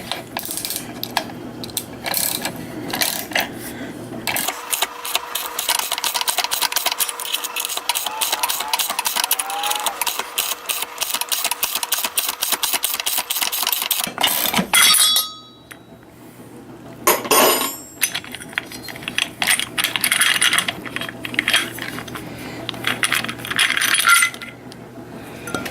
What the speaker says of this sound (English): Power steering pulley removal